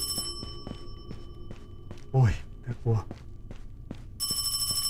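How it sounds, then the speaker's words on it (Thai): A telephone bell ringing in the ParanormalHK horror game set in Kowloon: a regular series of short rings over a low hum, with a scared voice speaking partway through and a brighter, louder ringing at the end. "เสียงใกล้เข้ามาแล้ว เสียงอ่าน่าจะเป็นโทรศัพท์"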